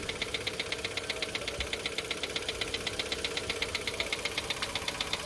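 Mitsubishi Xpander engine idling after an oil change, with a steady fast knocking tick repeating evenly over the running motor, heard close and moderately loud.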